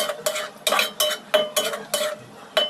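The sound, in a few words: stirring beef liver pieces in spice masala in pan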